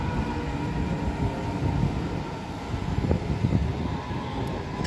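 A long S-Bahn commuter train stands and moves in a Munich-area station, a continuous rumbling hum with low mechanical rattles and occasional clanks, fairly close and steady.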